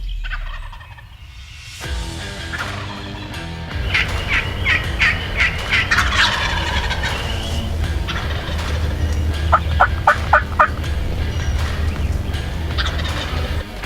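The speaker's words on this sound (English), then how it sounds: "There should be more gobblers in here" Wild turkeys gobbling during a hunt, several loud rattling gobble bursts in quick series, some close and some a bit farther off, over a low outdoor rumble.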